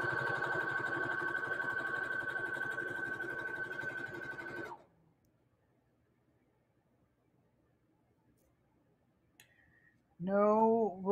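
A sewing machine stitches a pillowcase seam in a fast, even hum of needle strokes for several seconds, then stops abruptly; a short voice follows near the end.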